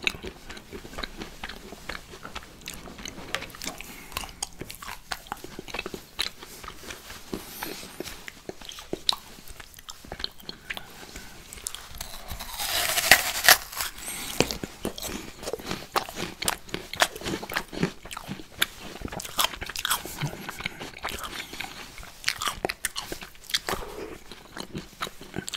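Close, crisp biting and crunchy chewing of an apple coated in dark chocolate and chopped pistachios, a dense run of small crackles and munches with a louder crunchy bite in the middle.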